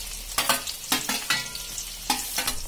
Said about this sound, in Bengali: পেঁয়াজগুলো একদম ব্রাউন করে ভেজে নেবো।